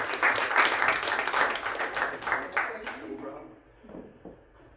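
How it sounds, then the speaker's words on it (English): A tech event audience gives a presenter a brief round of applause that fades out, followed by a voice speaking. "So big round of applause"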